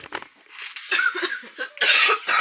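A teenage girl coughs hard and repeatedly, close and loud, in a run of harsh bursts after chugging Sprite.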